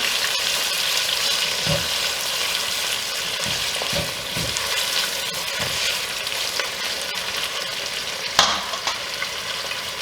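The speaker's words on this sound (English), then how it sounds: "once it's brown you flip it over, brown the other side" Chicken pieces fry and brown in a crowded pan, giving a steady broadband sizzle throughout with a few soft knocks and one sharper clatter near the end; no talking.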